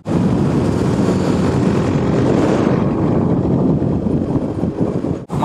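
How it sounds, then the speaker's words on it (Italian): Strong, steady wind roar buffets the microphone while riding a motorcycle through Sardinia, a loud broadband rush filling the whole stretch with no talk, briefly dropping out at the very end. "Madonna che vento!"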